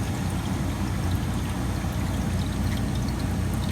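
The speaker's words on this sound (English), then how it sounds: "it's having a time trying to pump the water here" A small water pump in a Manitowoc Indigo ice machine struggles steadily, with a continuous low rumbling churn and gurgling flow of water throughout.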